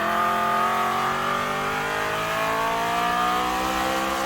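An abnormally loud BMW M3 track car engine roars continuously on a racing circuit, close and sustained with a rising, whining pitch, with no talking.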